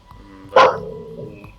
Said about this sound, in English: Just because you can't bark at the mailman doesn't mean you have to bark in here.